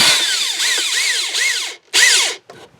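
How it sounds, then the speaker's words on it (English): Power drill driving screws into a wooden back step during a repair, with several whining bursts that rise and fall in pitch. The motor cuts out briefly, then comes back in one more loud, close burst before stopping. "sink the screws in too far, that should hold just fine"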